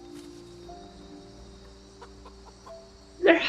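A rooster in the video game Project Zomboid gives a short burst of clucking near the end, moderately loud against a quiet, humming game background.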